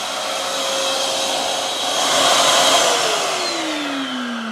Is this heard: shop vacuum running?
yes